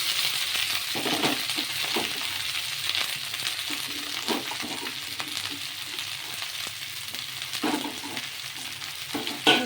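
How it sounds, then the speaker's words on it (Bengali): Okra frying in a pan with onion, garlic, chopped green chilli and salt: a steady close hiss of hot oil, broken by scattered scrapes and taps of stirring, with no one talking. "এবারে ঢ্যাঁড়স বা ভেন্ডিগুলো"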